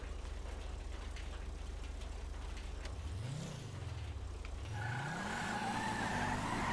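A Cheetah sports car in GTA 5 idles with a low drone, then its engine revs up and down twice with rising and falling pitch, followed by a higher-pitched whine as it drives off, with no speech.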